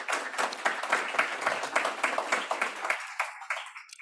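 A crowd claps steadily in dense applause that fades out toward the end.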